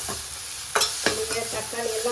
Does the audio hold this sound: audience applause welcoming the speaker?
no